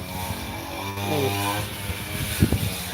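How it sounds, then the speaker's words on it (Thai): A steady engine drone with a rising and falling whine, like a grass trimmer running nearby, continuous throughout with some faint voices underneath. "ได้ยินเสียงเครื่องตัดหญ้าไหมจ๊ะ"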